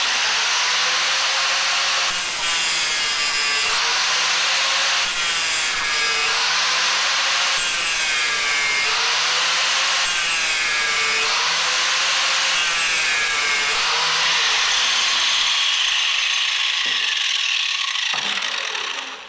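An All American Sharpener grinds a John Deere mower blade in repeated rhythmic swipes, each a loud close rasping whir roughly every two and a half seconds, about seven strokes before a clatter and fading grind.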